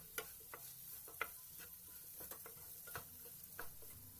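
A potato fry is stirred in a pan after salt and chili powder go in, with quiet scattered scrapes and taps over a faint steady sizzle, with no voice.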